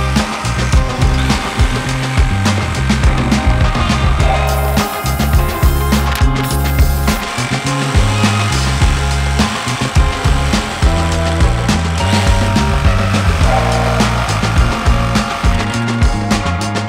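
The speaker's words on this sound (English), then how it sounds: "The jigsaw struggles a touch with this incredibly dense black limba." A jigsaw saws through very dense black limba wood for a guitar body, a loud, close, continuous buzzing cut with rough, uneven strain and brief dips as the blade works slowly through.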